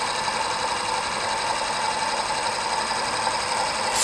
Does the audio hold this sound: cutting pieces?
no